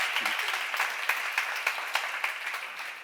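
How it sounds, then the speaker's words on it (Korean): Steady applause from a church seminar congregation, a dense even clatter of many hands clapping for about three seconds with no voices on top. "박수 하자."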